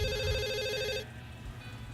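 A telephone rings in the video game The Assembly, a bright electronic trilling tone that warbles and then cuts off partway through, leaving low background hum.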